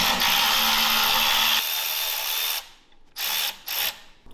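Work on a Briggs engine on a go kart brings a loud whirring power-tool buzz for about one and a half seconds, then quieter clicking and scraping, and a couple of short mechanical bursts.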